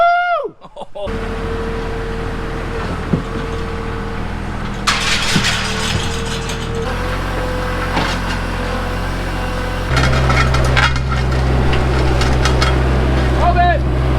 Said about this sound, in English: I'm just happy we have Joel's tractor because none of the other equipment can really fit in here